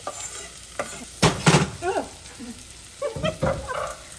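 Onions and garlic sizzle and get stirred in roasted sesame oil, loud bursts of frying and scraping in uneven spurts, with occasional kitchen clatter.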